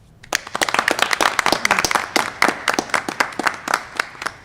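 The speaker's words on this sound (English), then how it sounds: "Let's give all of our board members a round of applause for all that they do on behalf of our kids and our community." A school board meeting audience breaks into a round of applause for the board members, with dense, sustained clapping from many people in the room, fairly loud and continuous with no talk over it.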